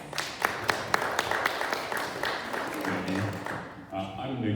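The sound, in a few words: round of applause for the panel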